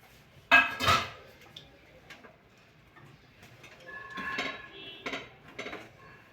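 Boiled potato being mixed by hand into a cauliflower paratha filling in a home kitchen, with a couple of clinking hits on a steel bowl or plate followed by softer scraping and stirring sounds, no talk.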